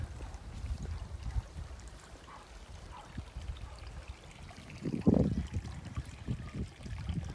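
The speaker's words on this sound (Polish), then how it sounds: "Słyszę jakiś strumyk." A small stream trickling near a clear spring, a faint, soft patter of running water with low rumbling in the background that swells a little toward the end.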